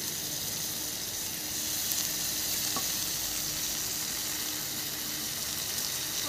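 Fried potato and pointed gourd sizzle loudly in oil with green chili and ginger-cumin paste, a dense, steady close-up crackle with occasional stirring and no talk.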